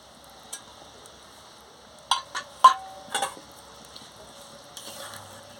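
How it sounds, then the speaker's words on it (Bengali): A spoon stirs a soybean and gram-flour fritter curry in a pot after ground cumin is added, producing a few brief clinks and scrapes in a short cluster, close and otherwise quiet. "জিরা গুঁড়োটা দিয়ে ভালো করে নাড়িয়ে নিচ্ছি"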